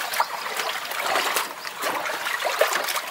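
Water trickles lightly and steadily on a vegetable farm, a soft continuous dribble with small splashes rising and falling close by.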